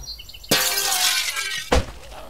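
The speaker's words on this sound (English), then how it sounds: "that's so cool when they make a lot of noise by breaking the glass doors." Zombies smashing glass doors in the isometric survival game The Last Stand Aftermath: two loud, close shatters with ringing, tinkling shards in between, the second crash short and sharp.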